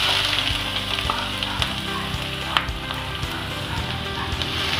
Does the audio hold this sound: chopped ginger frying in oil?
yes